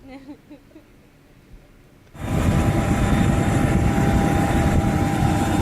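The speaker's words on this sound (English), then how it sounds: "the plane that we're going is a propeller plane" Propeller plane engine starting up beside boarding passengers, quiet at first, then abruptly swelling into a loud, steady drone with a constant whine that continues to the end.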